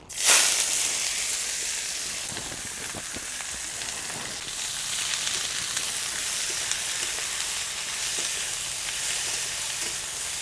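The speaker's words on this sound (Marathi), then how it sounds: "तेल गरम झालंय आपण हे तोंडले चिरून घेतलेले टाकून घेऊ" Chopped ivy gourd hits hot oil with a sharp burst of sizzle, then settles into a steady, even frying hiss that continues without any voices.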